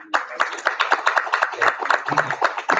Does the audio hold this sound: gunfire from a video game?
no